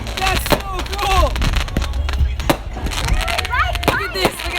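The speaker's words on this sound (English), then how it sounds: "So today there's fireworks right now." Fireworks going off outdoors as a rapid series of loud cracks and pops, close and continuous, with whistling and crackling bursts in between.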